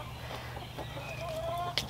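Chickens in a Zone 8 backyard spring garden give soft, faint clucks and short calls over a steady low background hum.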